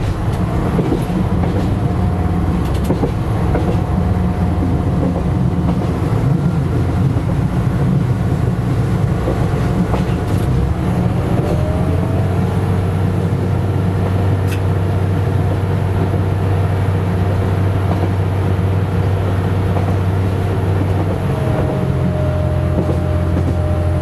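Passenger train on the Brive to Aurillac rail line running steadily at about 75 km/h, with a constant low rumble, faint wheel clatter and occasional higher squeals.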